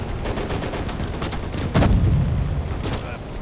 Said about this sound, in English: Alright, some more enemy artillery.